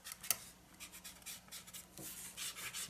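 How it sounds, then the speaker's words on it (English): Pencil sketch lines being erased from a journal page, quiet rhythmic rubbing strokes in short repeated bursts, close and faint, with no voices. "Let's do a little bit of removal of some of our original sketch lines."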